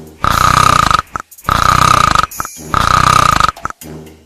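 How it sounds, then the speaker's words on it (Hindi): A cartoon man asleep on a cot snores loudly in three long, rattling exhalations, each followed by a short breathy intake, in an exaggerated comic rhythm. "वो जाकर खटिया पर खर्राटे मारकर सो रहा था।"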